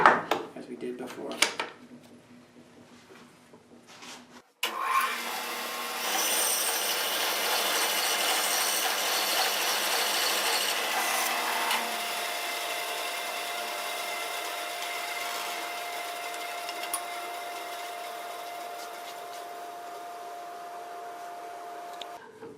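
A power saw cuts a wooden block meant for ring inserts for turned bowls, starting after a few brief knocks and handling sounds, then a sustained whining cut that gradually eases into a steady motor tone.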